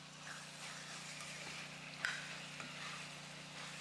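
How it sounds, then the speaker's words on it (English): Ground beef bulgogi fries quietly in a pan as extra sesame oil is added, a soft steady sizzle with a faint electrical hum and a couple of light utensil clicks. "So I'm just going to add a little extra sesame oil."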